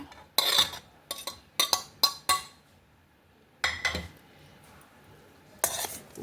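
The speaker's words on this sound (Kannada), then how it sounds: "ಈಗ ಮಾಡಿಟ್ಟು ಅನ್ನ ಇದಕ್ಕೆ ಹಾಕೊಂಬ" Steel utensils clink and scrape against a pan as cooked rice is added to capsicum masala, several sharp clinks in quick bursts, then pauses and two more isolated clatters.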